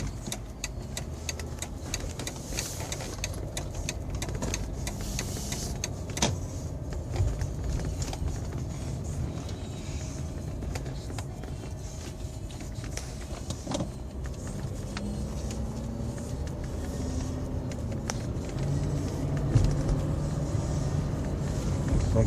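Cabin of a Cadillac Seville STS while driving: a steady, muffled engine and road hum, fairly quiet and even, with occasional small clicks and rattles and no talking.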